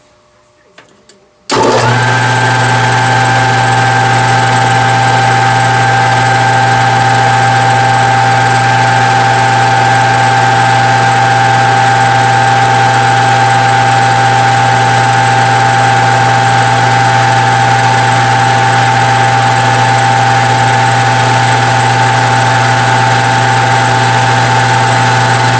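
A machine spinning at 1255 RPM while a bushing is modified starts up after a brief quiet moment, then runs with a loud, steady hum and whine that stays constant to the end.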